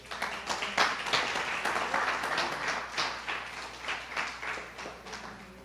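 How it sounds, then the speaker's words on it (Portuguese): A church congregation standing and applauding the Lord, dense steady clapping from many hands throughout, moderately loud with a low hum underneath. "dessemos uma salva de palmas ao Senhor."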